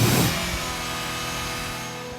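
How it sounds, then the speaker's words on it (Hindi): Tata Altroz XE engine revved while stationary, a steady mid-pitched exhaust drone held close and fairly loud for about two seconds, with no talk over it. "सो गाइस एग्जॉस्ट नोट आपको सुना देता हूँ कि कैसी है"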